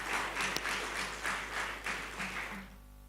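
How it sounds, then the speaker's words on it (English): A conference audience applauds The Nature Conservancy, soft pulsing rounds of clapping that swell and ebb in quick waves before thinning out at the end, fairly faint and distant. "a hand of applause to the TNC"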